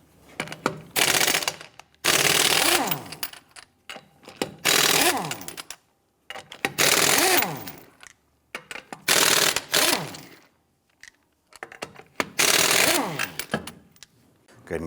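An impact tool with a 21mm socket buzzes and rattles while taking lug nuts off a 1992-1996 Toyota Camry, heard as repeated loud, close bursts of roughly one to two seconds each, separated by short silences.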